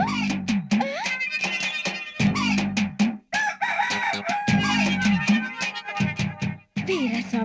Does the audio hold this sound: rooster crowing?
yes